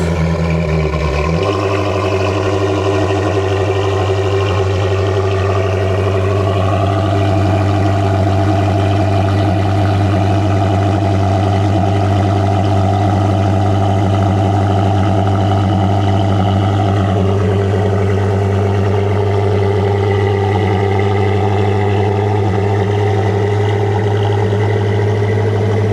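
Up close, a Koenigsegg Gemera hypercar's engine idles loud and steady, a deep, constant drone that shifts slightly in pitch partway through and holds throughout.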